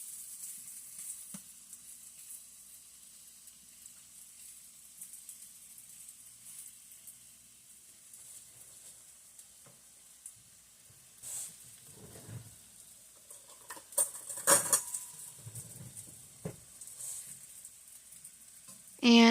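Sausage sizzles and fries steadily in a paella pan, a continuous soft hiss with occasional louder crackles and scraping as pieces are laid out evenly; quiet talking is heard at times over the cooking.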